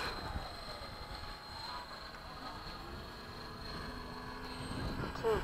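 An F-16 jet taxiing on the ground at Bayside, a steady engine roar with a high whine, held at a fairly constant level throughout while some voices talk over it.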